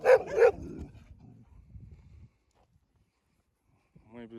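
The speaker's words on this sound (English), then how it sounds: "Look, it's mama dog." A mother dog barks twice in quick, loud succession on a street in Montenegro, followed by quieter low growling and a brief whine, with a voice briefly heard at the end.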